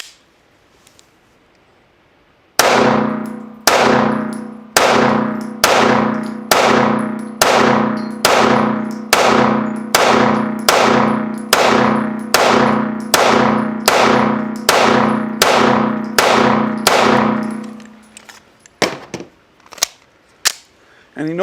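A Staccato HD P4 2011 pistol fired on a range, loud sharp shots repeated at a steady pace of about one every second, with ringing decay after each, then a few scattered clanks as it ends.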